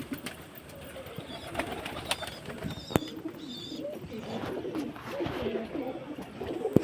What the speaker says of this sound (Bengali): এরা সবাই ঘরে ঢুকবে, পায়রা জল খাচ্ছে, জল খেয়ে দিয়ে সব ঘরে ঢুকবে।